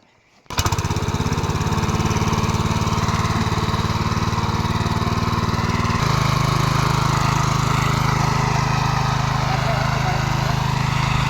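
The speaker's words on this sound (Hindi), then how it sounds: "तो ये हो रहा है खेत जोतने के लिए ट्रैक्टर स्टार्ट।" A farm tractor in a hilly field starts up after a brief quiet moment, then runs at a steady, loud, close engine chug for ploughing, its pitch shifting slightly midway, with a voice occasionally heard over it.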